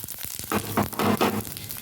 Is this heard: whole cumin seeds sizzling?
yes